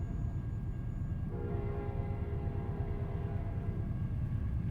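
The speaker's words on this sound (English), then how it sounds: "Is this train going to cause us issues now?" A train in a truck driving video game rolls past with a steady rumble, and a sustained horn blast sounds partway through.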